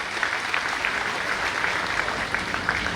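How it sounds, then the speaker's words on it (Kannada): Loud, steady applause from an audience at a village gathering fills the whole stretch, a dense wash of clapping with no speech over it. "ಜೋರಾಗಿ ಚಪ್ಪಾಳೆ ಕಟ್ಟುವ ಅಭಿನಂದನೆ ಸಲ್ಲಿಸಿ"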